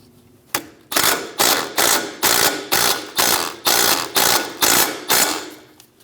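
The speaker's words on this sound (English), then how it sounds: "Snug down the nut." A hand ratchet snugs down the nut on a front upper control arm of a 2001–2006 Chevrolet Silverado, giving about ten loud, close, evenly spaced clicking strokes with no talk.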